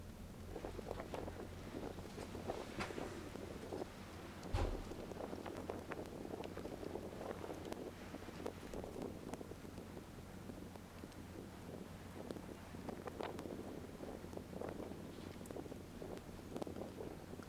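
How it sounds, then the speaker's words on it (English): Strong wind buffets the microphone on an open beach at Cemlyn Bay on Anglesey, giving a steady low roar and rumble with gusty surges and one sharp thump partway through, and no voices. "Very windy, almost impossible to hold the camera steady without a tripod"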